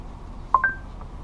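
Faint dialing tones from a VW Polo's Android Auto system as a phone call is placed: a couple of short beeps over quiet car-cabin hum, then a fainter tone.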